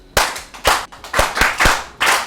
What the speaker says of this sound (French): On va applaudir de cette façon.